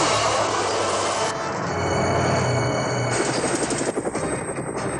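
A helicopter in an animated series roars with dense, loud rotor and engine noise, turning into a rapid rhythmic chopping toward the end.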